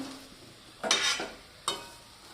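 A spoon stirs muthiya dhokla in a pan over a low flame, producing two short scraping, sizzling sweeps with quiet gaps between them and no voices.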